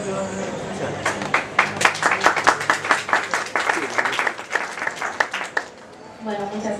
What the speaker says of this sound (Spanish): Estuvo flojo el aplauso